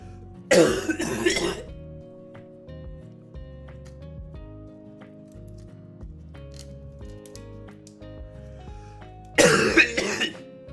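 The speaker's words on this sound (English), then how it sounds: "It's just the phlegm coughs." Two bursts of harsh, wet phlegmy coughing, one near the start and one near the end, close and loud, with faint background music between them.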